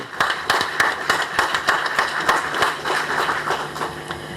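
An audience at a conference plenary session applauds, with many hands clapping in a busy, irregular patter that holds steady throughout at moderate loudness, and no talk over it.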